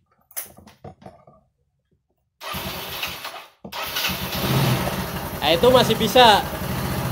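A car engine cranks and fires up with one of its two batteries disconnected, then idles loudly and steadily nearby, while someone talks over it.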